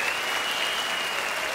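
Studio audience at a Brazilian TV variety show applauding steadily, a dense even wash of clapping that holds at one level throughout with no talk over it.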